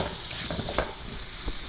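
Sweet pineapple curry simmers in a pan under soft, continuous sizzling, with light scraping stir strokes at close range.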